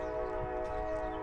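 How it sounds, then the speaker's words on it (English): A slow-moving train rolling past near a house roof under repair, a steady loud tonal rumble with a sustained horn-like drone throughout, no talk. "Sorry for the train."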